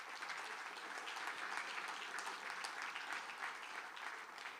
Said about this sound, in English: So big round of applause on that.